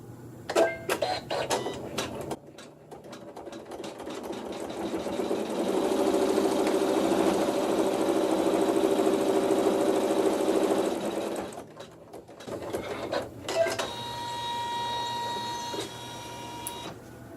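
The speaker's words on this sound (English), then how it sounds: "with neutral thread in the needle, just checking that pleat, I'm going to go ahead and sew a seam." A sewing machine stitching a seam through fabric with neutral thread, a continuous whirring run of several seconds between short start-stop bursts and clicks, close and clear.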